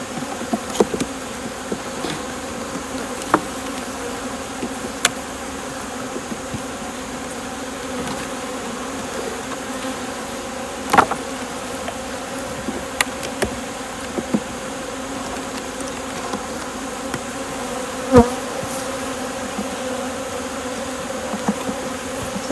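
Honeybees buzzing around beehive frames, a steady close swarm hum with scattered light clicks and knocks from handling the hive, and no talking.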